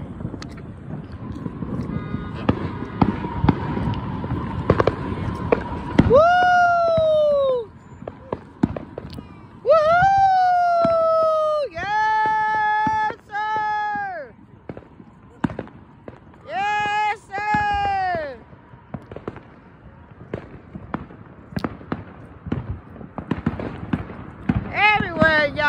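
Fourth of July fireworks crackle and pop on all sides through a long stretch, scattered bursts near and far, while several drawn-out whistling or shouting tones rise above them and voices carry underneath.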